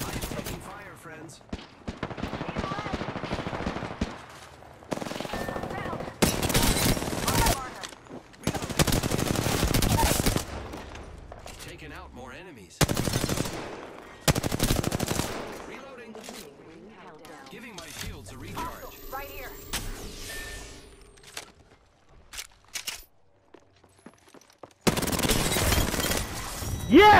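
In the Apex Legends video game, loud bursts of automatic gunfire come in repeated rapid volleys separated by short quieter gaps. Game sounds and a voice can be heard between the bursts.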